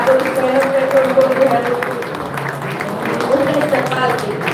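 An audience claps through a mushaira poetry recital in a hall, a steady wash of applause heard under a voice that keeps talking.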